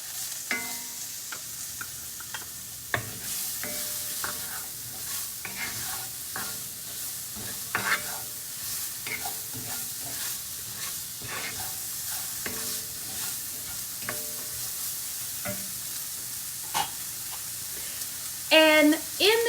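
One finely chopped medium onion fries in seasoned oil for a keto cauliflower umpa. A continuous sizzle sits under repeated scraping and clattering stirring strokes, with a louder burst of sizzling near the end.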